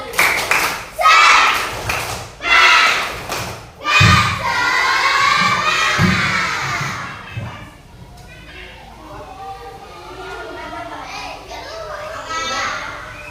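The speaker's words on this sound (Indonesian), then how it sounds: "Ayo sekali lagi, ayo. Tepuk semangat." Schoolchildren in an Indonesian classroom doing a rhythmic clapping cheer, loud bursts of claps and shouted chanting in the first seconds, then excited children's chatter and shouting continuing more loosely afterward.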